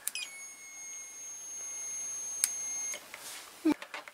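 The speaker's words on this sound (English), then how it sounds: "if you want to test the buzzer, you can absolutely do that by touching the two probe leads together" A Mastech multimeter's continuity buzzer sounds a steady electronic tone for a few seconds as the probe leads touch, then cuts off, followed by a couple of faint clicks and brief noises.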